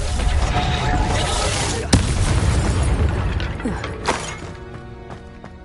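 A Reducto spell blast in Hogwarts Legacy, a loud crashing burst amid dense game noise, with sharp impact cracks near two and four seconds.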